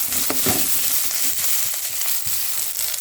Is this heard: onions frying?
yes